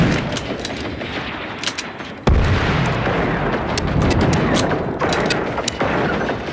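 Gunfire in the Generation Zero video game aimed at a harvester robot's back-mounted missiles: rapid, loud, dense shooting with heavy booming blasts and a sudden louder burst partway through.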